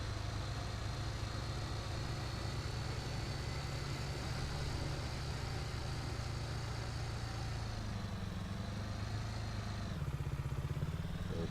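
Vehicle engine droning steadily while driving across the Irgendwo In Thuringen 2 map in a farming video game, a continuous close hum with a gear or speed change near the end.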